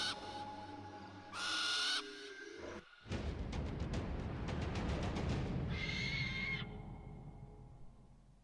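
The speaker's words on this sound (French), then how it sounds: "Moi pouvoir apprivoiser oiseau à grands yeux." Owl hooting inside the Xbox One game Far Cry Primal, a loud burst among layered game ambience and music-like tones, with no talk.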